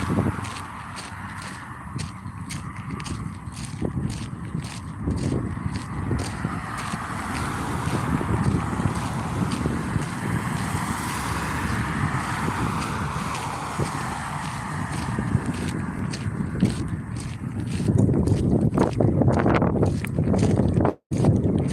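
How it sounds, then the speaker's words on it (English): Wind blows steadily outdoors on a hot day, a broad rushing roar that swells and gusts for the whole stretch, loud and close, with occasional faint knocks underneath. "We got some wind blowing."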